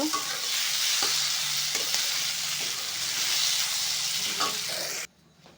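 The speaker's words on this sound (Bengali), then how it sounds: "তো এই যে আমি ওটটা এখানে দিয়ে দিয়েছি একটু ভাজা ভাজা হোক" Oats frying in a pan while being stirred, giving a steady close sizzle with scraping strokes for about five seconds before it cuts off sharply.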